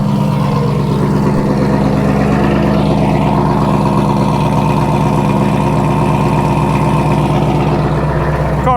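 A 2020 Chevrolet Camaro 1SS 1LE V8 idles steadily, loud and close, with the hood open and a deep, even rumble that carries no other sounds.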